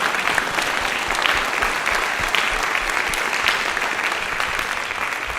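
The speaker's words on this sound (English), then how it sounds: "Give her a big round of applause for helping us on bassoon." Audience at a spring band concert applauds a guest bassoonist, a dense, steady wash of many hands clapping that holds evenly loud throughout with no voices breaking through.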